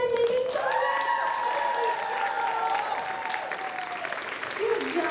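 Steady dense applause from an audience cheering Little Miss contestants at the 2021 Miss Grayslake Pageant, continuous clapping throughout with a voice carrying over it and scattered crowd noise.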